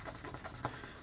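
Fingers rub tape and glue into a junk journal card in quick, soft rhythmic strokes of paper friction, close and quiet, with one slightly louder swipe near the end.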